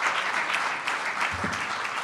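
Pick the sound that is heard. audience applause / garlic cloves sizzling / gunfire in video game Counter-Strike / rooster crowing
audience applause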